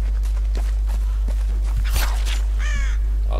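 In the video game Tomb Raider (2013), a crow caws a few times amid footsteps on the ground, over a constant low hum.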